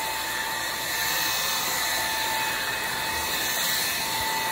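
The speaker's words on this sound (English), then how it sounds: "It's very easy to vacuum, very smooth." A RAYCOP Omni Power cordless stick vacuum cleaner running on a floor, a steady loud whining hum with a bright high tone, continuous and alone.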